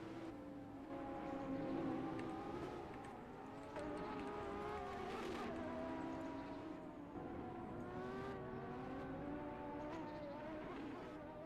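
Group C sports prototype race cars, including a Porsche, circling a track during a race, with engine notes rising and falling in overlapping pitches as cars pass at a moderate distance, fairly faint and steady.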